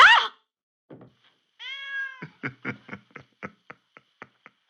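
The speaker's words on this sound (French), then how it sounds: "Désolée, c'est mon chat Nesquik qui m'a..." A cat gives a short meow, then a longer drawn-out cry, followed by a series of soft rhythmic thumps that fade; quiet room otherwise.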